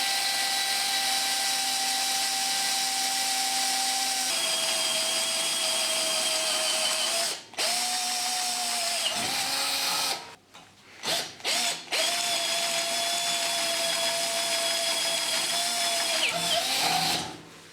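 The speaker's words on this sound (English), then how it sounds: "the holes we've just drilled" A power drill whines steadily through metal, pausing briefly a few times before resuming its high, sustained grinding.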